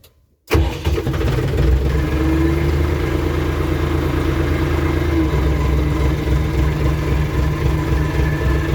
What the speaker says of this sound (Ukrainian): трактор завів